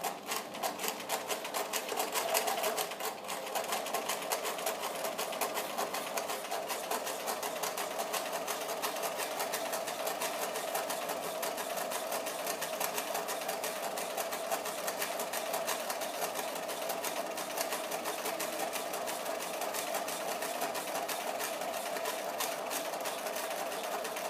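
A sewing machine runs steadily, stitching a centred zip into fabric, with a continuous close, rapid mechanical whir throughout and no talking.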